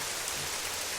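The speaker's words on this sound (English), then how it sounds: "It's raining." Steady rain falls in a soft, even hiss with no distinct drops standing out, continuous and fairly quiet throughout the short stretch.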